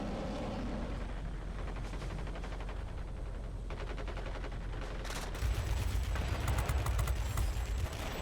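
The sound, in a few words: fighter plane guns firing in World of Warplanes video game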